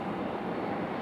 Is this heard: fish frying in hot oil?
no